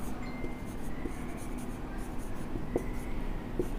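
Chalk or marker scratches on a board during a chemistry lecture, producing faint, intermittent strokes and taps over a steady room hum, with no voice heard.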